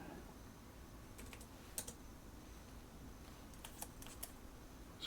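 Sparse keyboard typing at a computer while drawing a 3D part in CAD software: a few short bursts of faint clicking keystrokes over a low steady room hum, with long quiet gaps between them.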